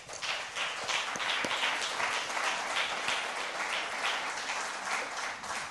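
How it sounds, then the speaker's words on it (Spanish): A church congregation in London gives sustained applause, a dense and steady wash of many hands clapping throughout, with no speech over it. "Dele un aplauso a Dios,"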